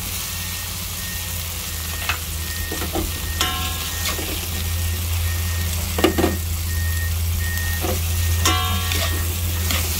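Ground meat and crushed tomatoes sizzle and fry steadily in a pan, with a constant low hiss and occasional clinks and scrapes from stirring, close by and with no talk over it.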